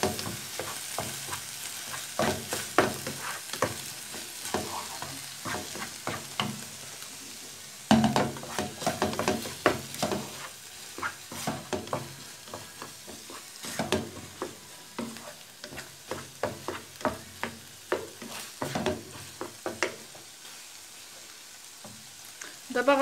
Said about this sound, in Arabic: غادي نمزج حتى تندمج ليا هاد صوص الطوجه مع بقيه العناصر